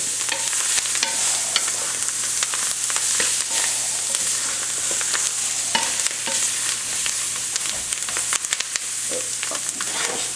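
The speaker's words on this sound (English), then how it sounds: "we're going to keep stirring this, and we're going to cook this for about 10 minutes till our vegetables become soft" Vegetables for a Creole shrimp stew are stirred steadily in a pot on the stove, a continuous scraping and gentle sizzle with frequent small clicks of the spoon against the sides, close and even throughout.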